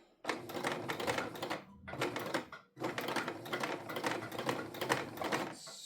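A sewing machine stitches a straight seam down a tote bag in two steady running bursts separated by a brief pause, with a rapid mechanical chatter close up and no talking.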